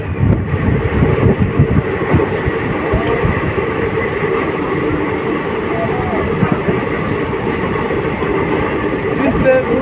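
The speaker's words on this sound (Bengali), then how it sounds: "জাস্ট দেখো কত বড় train, Kanchenjunga express, train number 13-174" The Kanchenjunga Express rumbles steadily along the rails in rain, a continuous loud rolling roar with wind noise, heard from aboard the moving train.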